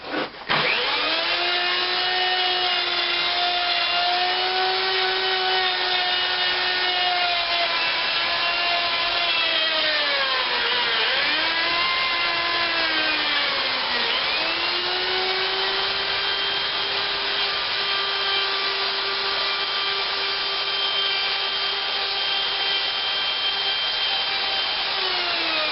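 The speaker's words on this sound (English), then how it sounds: "So route from here to here." A wood router cuts into a resonator guitar body, its steady high-pitched motor whine running continuously for the whole stretch, dipping briefly in pitch under load midway before settling back, loud and close.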